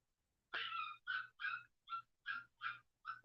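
A dog in another room gives seven short, evenly spaced whimpering yelps, moderately loud and alone over near silence.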